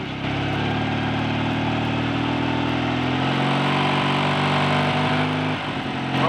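Rebuilt BSA A65 motorcycle twin-cylinder engine running steadily near 2000 RPM, a loud continuous close-up drone with harmonic tones that shift slightly as the revs change, no talk.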